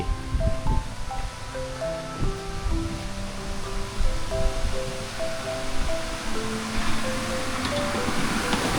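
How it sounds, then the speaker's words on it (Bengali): Water released from a dam with its gates held mostly shut roars in a steady, broadband rush throughout, while a stepping melodic tone line plays faintly over it. "দেখুন বন্ধুরা অল্প জল ছাড়া রয়েছে"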